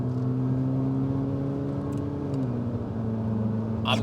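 A 2022 Haval H6 GT SUV with a 150 kW engine gives a steady, droning exhaust note with a strong low hum. The pitch holds, dips slightly, then settles, close and loud throughout.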